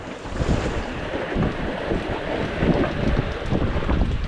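Strong sea waves surge and wash around a small wooden boat at sea, a continuous loud rush of water mixed with heavy wind noise on the microphone.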